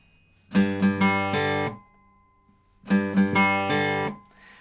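Two short bursts of strummed acoustic guitar chords with a quick rhythmic pattern, separated by a brief pause, played clearly and close up: the intro of a song.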